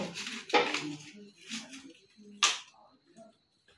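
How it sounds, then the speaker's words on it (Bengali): A knife chops a cauliflower into small pieces for fritters, giving a few separate sharp cuts and knocks against a board, with short gaps between them, close and fairly quiet. "তো আমরা আগে ফুলকপিটা কেটে নেব"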